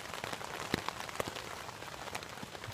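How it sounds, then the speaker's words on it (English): Steady rain patters on a surface at Frontenac Park in May, a dense, even hiss of drops with a few sharper nearby plinks, continuous throughout. "it's raining now."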